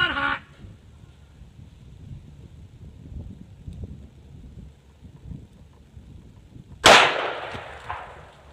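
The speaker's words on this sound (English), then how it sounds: "You notice we got some results with that 357 Magnum" A single sharp, loud report from a .357 Magnum revolver firing a Black Hills 158-grain semi-jacketed hollow point round outdoors, preceded by several seconds of faint wind and rustle.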